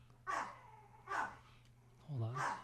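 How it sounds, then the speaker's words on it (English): Dogs shut in an adjacent room let out three separate barks and yelps, muffled and moderately faint, spaced apart over a low steady hum. "The dogs that I put in this room are now barking."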